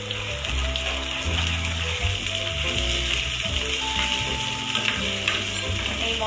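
Ginger garlic paste added to a pan of fried capsicum while cooking chicken, giving a steady, close, loud sizzle with stirring and scraping throughout and no talking.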